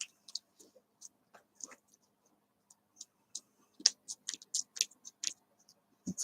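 Scissors snipping crochet yarn while making a child's Batman hat with a pom: a string of quiet, crisp clicking cuts, sparse at first and then quicker and closer together near the end, heard alone.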